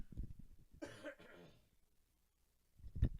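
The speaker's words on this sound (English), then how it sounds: "Excuse the coughing." A man coughs and clears his throat close to the microphone during streaming camera tests, a short throaty burst midway, then a sharp cough near the end, with quiet pauses between.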